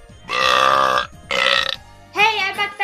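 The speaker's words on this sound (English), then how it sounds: "Keep burping." Long, loud drawn-out burps from a cartoon character, three in a row with short gaps, the last one wobbling in pitch, each standing alone and filling the moment.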